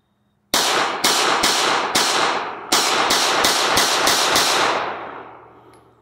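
Ten rapid, loud 12-gauge shotgun blasts of steel BB shot from a 3-inch shell strike body armor at an outdoor range, sounding in two quick bursts, with the echo trailing off after the last one.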